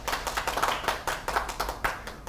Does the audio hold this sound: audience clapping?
yes